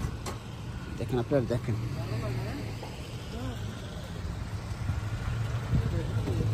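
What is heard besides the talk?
vehicle engine running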